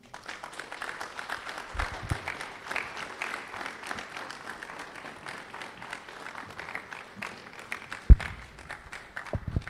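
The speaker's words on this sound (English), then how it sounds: "Please, ladies and gentlemen, let's keep clapping" Audience at a public health lecture on food safety in Ghana applauding after the talk, with a steady, modest patter of many hands in a hall, a few louder thumps, and faint voices underneath.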